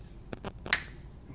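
Three quick finger snaps, crisp and close, spaced a fraction of a second apart over faint background.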